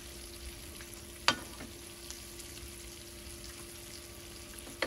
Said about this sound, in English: all I'm gonna do is brown this squirrel